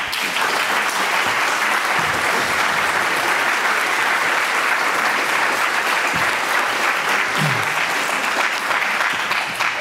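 An audience at an evening talk at the Modern applauds to welcome artist Richard Tuttle, a dense, sustained roar of clapping from a large crowd holding steady for about ten seconds.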